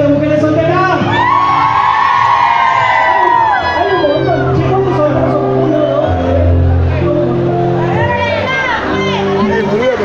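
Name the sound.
women in a nightclub crowd shouting and cheering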